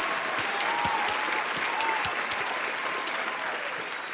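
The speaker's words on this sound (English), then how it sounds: "can we please have the best of order and a massive round of applause for Grace?" An audience at a Welsh talent contest applauds, a steady wash of clapping that starts strongly and holds at an even level throughout, with no speech over it.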